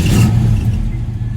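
A 1967 Camaro SS350 engine catches and revs loudly up close, then settles into a rough, steady idle with a slight clatter.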